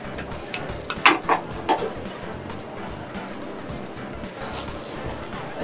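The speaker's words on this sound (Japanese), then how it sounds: "バターを溶かしていき" Butter melting in a frying pan gives a soft, steady sizzle with a few sharp clicks and scrapes near the start, then a hiss that brightens toward the end.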